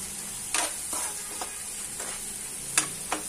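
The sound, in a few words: mixing masala and salt in a frying pan for poha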